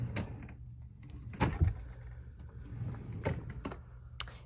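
Makeup storage drawer sliding open and shut with several soft knocks and scrapes, close by and quiet, no talk.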